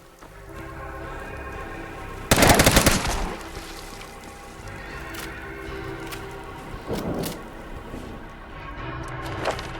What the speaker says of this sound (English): Considering what ammo this is firing, it's just a brutal weapon.